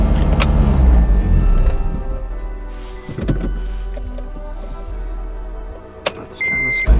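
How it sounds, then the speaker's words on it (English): An all-motor Acura RSX with its engine just restarted idles with a steady low exhaust rumble close by, while a faint whirring mechanical noise runs over it near the end. "If you guys hear that noise, that's my exhaust."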